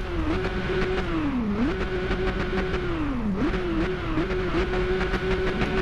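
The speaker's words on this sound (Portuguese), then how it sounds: "Vamos pilotar a Z800." Kawasaki Z800 motorcycle engine in the RIDE racing game, a steady loud drone that rises and falls as the revs swing, with two clear dips and climbs, heard alone with no talk.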